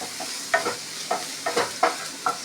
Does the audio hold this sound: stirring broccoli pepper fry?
yes